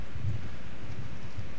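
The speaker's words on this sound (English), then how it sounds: "it sounds a little windy. We got our fans going up in here." Steady low wind-like rumble of fans running inside a church, a continuous soft blowing hiss with faint low thumps, no voices.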